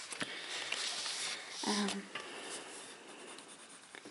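Colouring pens or pencils scratch and rub across the pages of a Disney Villains colouring book in close, quiet strokes with brief pauses.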